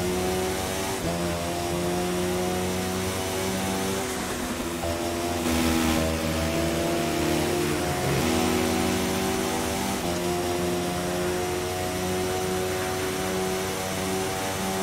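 Engine of a car driven in the racing game The Crew 2, a steady mid-pitched drone with shifting rev tones, loud and continuous throughout with no talking.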